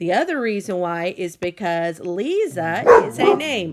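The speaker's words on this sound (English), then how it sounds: "Oh, I'm sorry. That's my dog." A pet dog barks and yips briefly in a home while a teacher speaks, the sharp barks surfacing under and between the continuous talking.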